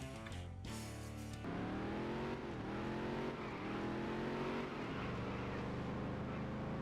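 Race car engine in the Dirt to Daytona video game at Mankato Raceway, loud and continuous, revving up and down through gear changes with a sharp burst at the start.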